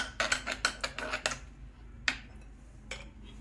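A metal idli steamer plate is handled, giving a quick run of close, bright clanks and rattles followed by a couple of isolated knocks.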